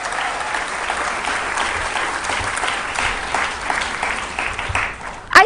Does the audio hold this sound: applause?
yes